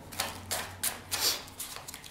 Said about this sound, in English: So they shuffle nice and smoothly